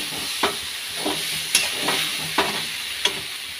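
Boiled potatoes frying in a hot pan, a close, bright sizzle with a series of sharp spatula scrapes and knocks at irregular intervals, about five distinct strokes, no talking.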